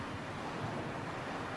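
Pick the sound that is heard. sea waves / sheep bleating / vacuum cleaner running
sea waves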